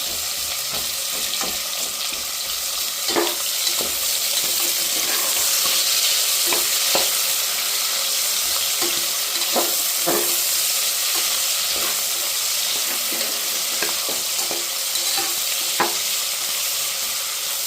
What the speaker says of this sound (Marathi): थोडंपर्यंत आपल्याला परतायचा आहे कांदा